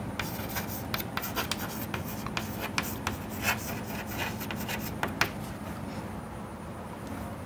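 Chalk or pen writing out a physics equation for the limit of resolution, a busy run of scratchy, rubbing strokes with sharp taps, close and steady, no talking.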